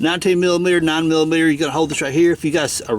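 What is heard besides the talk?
None of the usual background noises is heard.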